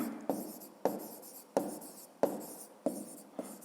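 Pen writing on paper while working a fifth-grade maths exercise on natural numbers: six crisp, regular strokes about every 0.6 seconds, close and fairly quiet, with no talking.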